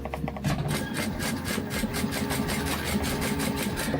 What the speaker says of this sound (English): I'm also sewing it with the lining up because the grippy